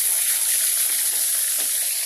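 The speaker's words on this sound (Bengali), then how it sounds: "মাছটা ভেজে নেব আমি দিয়ে দিই কড়াই মতো ছেড়ে দিই একটা একটা করে" Fish pieces frying in hot oil in a wok (kadai), giving a steady, fairly loud sizzling hiss that runs unbroken for about two seconds with no talk.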